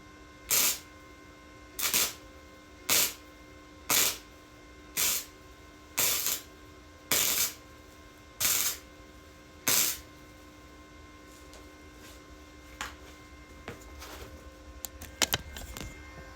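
Tack welding in a home garage: nine short, harsh sizzling bursts at a steady pace about a second apart, followed by quieter scattered clinks and handling noises.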